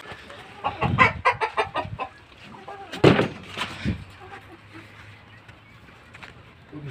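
A flock of about eleven hens clucking close by in uneven bursts, with one louder squawk midway and faint human voices mixed in among the birds.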